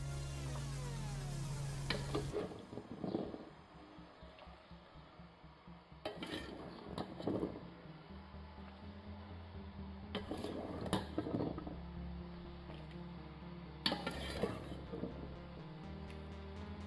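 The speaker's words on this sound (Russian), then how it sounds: "В горячий сироп добавляем орешки." Walnuts go into hot spiced syrup in a pot on the stove and get stirred, heard as a few faint clinks and scrapes of a utensil against the pot over a low background hum.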